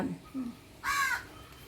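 Crows caw twice in quick succession during the rainy season, a short faint call followed by a louder, harsher caw, heard alone at moderate distance.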